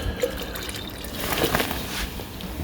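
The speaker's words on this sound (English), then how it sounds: "So I'm just going to pour this in." Solution poured into a container already holding rinse water during gold recovery from gold-plated fingers, a soft trickling, splashing pour that swells briefly in the middle and then tapers off.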